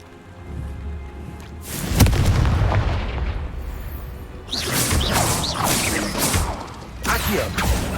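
A Confringo fire-blast spell erupts in the Hogwarts Legacy video game. A heavy, rumbling boom bursts out, then a second crackling blast follows with debris-like clatter. The sound is loud and close, with no speech over it.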